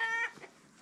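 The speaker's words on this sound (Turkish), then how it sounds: "Şu horozun ötüşünü." A rooster in a village farmyard lets out a short, fairly close crow that fades quickly, with no speech over it.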